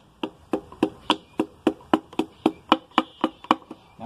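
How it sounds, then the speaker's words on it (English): Wooden end of a hammer tapping on a flathead engine during piston ring replacement, about fifteen evenly spaced sharp knocks in a steady rhythm, close and clear with no talk. "Take the wooden end of a hammer and just the weight of the hammer."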